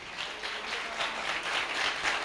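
A church congregation claps together in loud, dense applause during a live prayer service, a steady wash of hands that pulses slightly as it carries on, with no talking over it.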